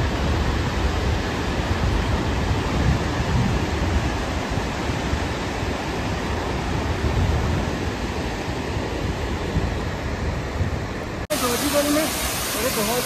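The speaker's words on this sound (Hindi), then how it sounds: "और ये देखिए ये दृश्य है लिदर दरिया के।" The Lidder river near Pahalgam on the Amarnath trail rushes past in a loud, continuous roar of broadband noise that stays close and unbroken, then cuts abruptly near the end.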